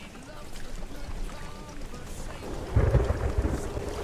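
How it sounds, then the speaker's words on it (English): Thunder and rain from a commercial fishing video game set on the Barents Sea, a low continuous rumble of rain that swells into a louder, deeper thunder roll partway through. "Sound like it's going to be one hell of a storm when we get there."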